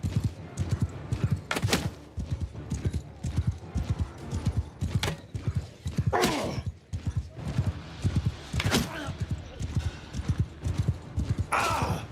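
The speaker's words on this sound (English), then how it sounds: "whenever I hit a guy with my horse, you get a little bit of horse riding XP from the charge damage" Horse hooves clip-clop in the Viking-era video game Warsails, a steady close rhythm of footfalls running throughout at moderate volume.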